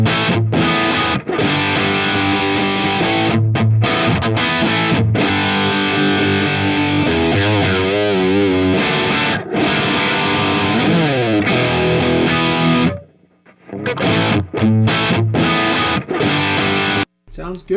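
Electric guitar played straight into a Mesa Dual Rectifier on channel 2 vintage mode, heavily distorted chugging riffs and sustained chords with brief pauses, loud and close throughout.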